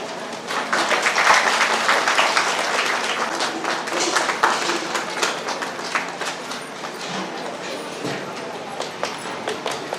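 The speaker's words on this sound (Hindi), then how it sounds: "ताली बजाओ।" After a Good Friday talk, a congregation claps in a dense burst that slowly thins into scattered, uneven claps.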